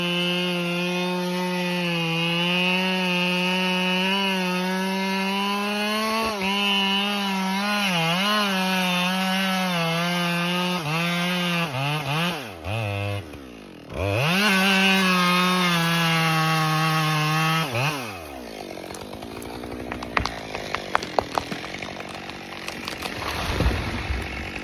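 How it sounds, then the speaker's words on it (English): A chainsaw bites deep into a large tree trunk in a shady garden, its engine whining in a steady, loud drone that bogs and rises as the blade cuts, dips briefly, then gives way to quieter rustling and cracks. "a worker operates a chainsaw, cutting deep into a large tree trunk"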